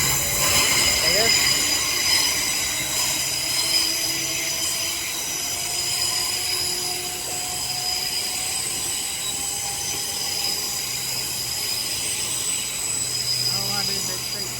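Train wheels squeal steadily as a train pulls out of London Paddington station on the Great Western Main Line, a loud, sustained metallic screech over rumbling rail noise for the whole stretch.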